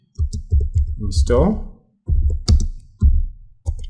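Keys clatter on a computer keyboard as a short command is typed in bursts of clicks, close and crisp, with someone speaking between and over the keystrokes.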